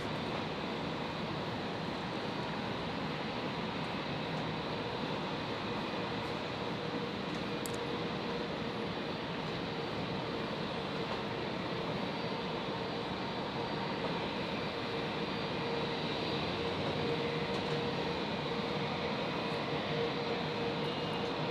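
A Virgin airliner arriving from Melbourne on runway 01 right at Brisbane International Airport gives off a steady, fairly distant jet engine roar that holds evenly throughout.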